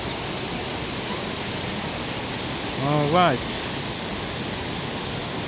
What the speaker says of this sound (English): This isn't just a waterfall, it's a living cathedral of stone and spray.